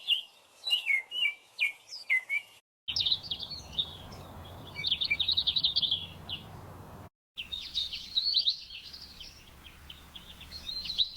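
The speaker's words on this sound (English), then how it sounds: "I'm going to type in birds chirping" A generated birds-chirping sound effect: bright, repeated high chirps and whistled tweets in quick bursts, with two brief silent gaps and a soft background hiss behind the later calls.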